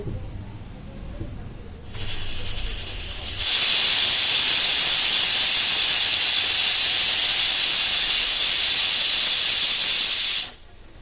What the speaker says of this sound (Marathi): आपण कुकर ठेवू गॅसवरती आणि तीन शिट्ट्या होऊन देऊ